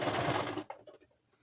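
A sewing machine stitches a mask made from home A/C filter material, giving a short burst of rapid mechanical whirring that cuts off abruptly, followed by a few faint clicks.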